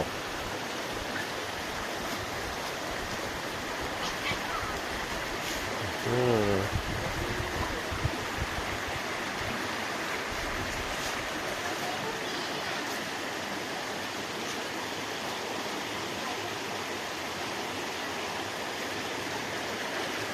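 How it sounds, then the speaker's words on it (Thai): A waterfall at Nam Nao, near a farm, rushes in a steady, full roar for about twenty seconds, with a brief louder splash partway through and no talk. "นี่ครับเป็นทานน้ำตก ที่อยู่ใกล้กับไร่โคกยาว"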